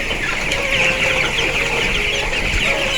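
Broiler chickens on freshly changed litter cluck and chirp together in a continuous, busy chorus, fairly close and loud, with no talk over them.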